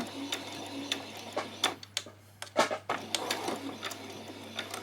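A sewing machine running a back stitch while sewing a peasant top, a close rapid ticking mechanical rattle with short pauses and brief faster bursts.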